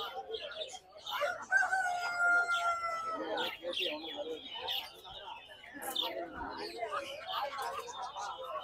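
Chickens and a rooster at a busy Tamil market stall, clucking and crowing repeatedly amid crowd noise, with people talking over them.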